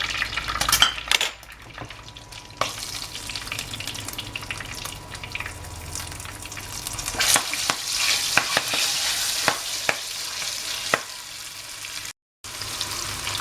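Oil sizzles and crackles steadily in a pan as cherry tomatoes fry, with occasional utensil scrapes and clinks, no talking.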